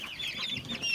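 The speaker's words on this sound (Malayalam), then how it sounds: "ഇത് പാലക്കാടൻ നാടൻ കോഴിയെന്ന് പറയും ഇതിന്." Palakkad native desi hens cluck softly and repeatedly at a farm, a few close, uneven calls.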